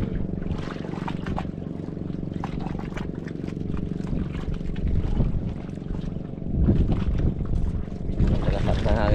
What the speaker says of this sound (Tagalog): Lakas yung hangin.